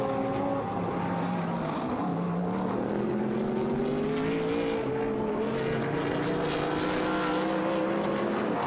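BMW and Mercedes GT1 race cars roar loudly and continuously at the Nürburgring, Germany, pitch rising and falling as they rev and accelerate close by, with no voices.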